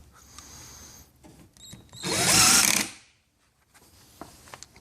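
Power drill driving screws into the bottom of a cabinet, one loud close whirring burst of about a second, framed by quieter clicks and handling noises.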